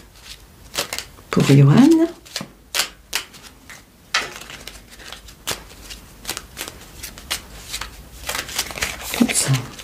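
Oracle cards being shuffled by hand in a quiet ASMR setting, with soft rapid riffling and papery flicks repeating in bursts. A soft voice speaks briefly in French.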